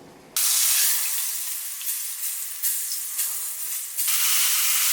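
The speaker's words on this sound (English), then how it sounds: "We're gonna sear the pot roast." A pot roast sears in a smoking hot skillet, a loud, dense hiss that bursts on abruptly and holds steady for several seconds with small surges of spatter.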